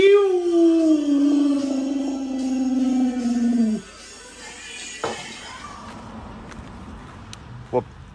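A dog lets out one long, loud howl that slides slowly downward and then breaks off, followed by faint background noise and a few soft knocks.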